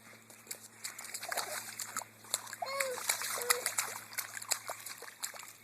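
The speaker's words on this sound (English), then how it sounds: "Puddles! Splash, splash!" Small splashes and water patter come in irregular bursts, with a voice and squeals mixed in over a faint background hum.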